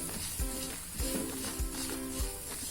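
A Gujarati sweet mixture with added malai cream is stirred in a pan, giving a steady soft sizzle broken by regular scraping spatula strokes about every half second, close and moderately loud.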